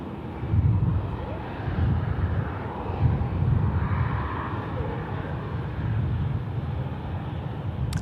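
Airbus A380 jet engines rumbling at Sydney Airport at night while the plane lines up on runway 34 left, a steady loud low roar that holds throughout without a break.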